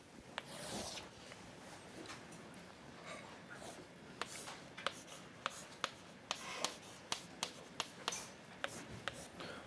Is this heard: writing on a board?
yes